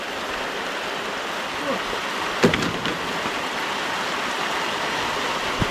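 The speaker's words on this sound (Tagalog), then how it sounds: "So, yan na po yung ulan, dumating." Steady, broadband rain hiss fills the whole stretch, with a brief sharper patter or splash near the middle and faint voices underneath.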